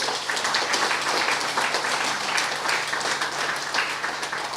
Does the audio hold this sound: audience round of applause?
yes